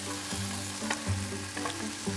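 Spring onions and peppers fry in olive oil in a pan, a steady close sizzle with a few stirring scrapes and clinks, and a low musical tone running underneath, no talk.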